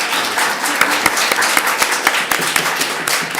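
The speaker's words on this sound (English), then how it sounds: "Please, an applause." A summit audience in Helsinki claps after a session, a brief, close burst of applause with a few sharp individual claps standing out.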